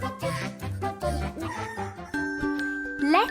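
A rooster crows in a children's show, a bright cock-a-doodle-doo with clucking and a small jingle underneath, loud and close with no talking.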